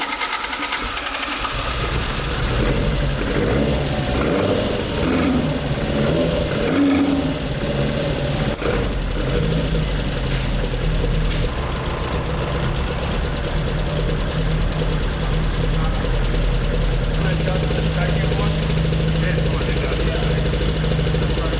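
The engine of a Toyota AE86 undergoing an old-school rebuild runs steadily after its fuel is primed, a loud, busy mechanical clatter with a constant drone from close by, while people talk throughout.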